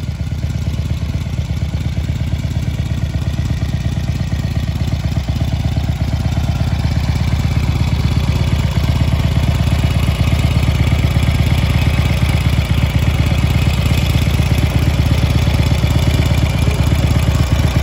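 A Harley-Davidson 883 motorcycle idles steadily up close, a loud, continuous low rumble with a slight mechanical clatter that holds evenly from start to finish.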